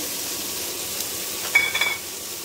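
Chopped green chilies hitting pasta frying in a pan, with a steady low sizzle and a brief burst of louder crackling and stirring partway through.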